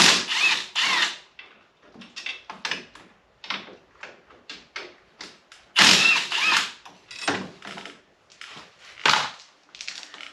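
A ratchet socket wrench, using 15 mm sockets, works bolts loose on a RZR side-by-side's tie rod end and front brake caliper, sounding as close, sharp bursts of rapid clicking separated by brief pauses, with no talk.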